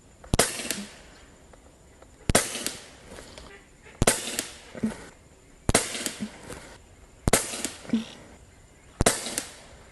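Six sharp shots from an Umarex Gauntlet 2 .25 caliber airgun, fired at a steady pace about every one and a half seconds. Each crack is loud and close and is followed by a short ring before the next.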